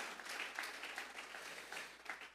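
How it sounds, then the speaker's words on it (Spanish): A church congregation claps as an offering of praise to God during a sermon, a faint but steady ripple of many hands applauding in the room without voices. "Vamos a regalarle ofrenda de palmas al Dios de la gloria"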